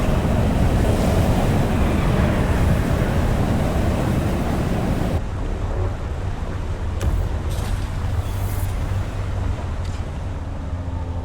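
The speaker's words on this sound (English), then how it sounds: "It's getting pretty windy." A windstorm in the video game Dune: Awakening roars loudly and steadily, a dense gusting rush that drops to a lower, thinner howl partway through.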